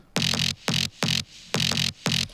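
Synth bass layer from a drum and bass loop: five bright, buzzy stabs in a syncopated pattern, each with a gritty upper edge over a low body, separated by short gaps.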